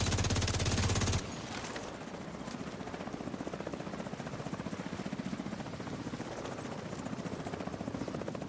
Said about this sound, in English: Comes the next helicopter.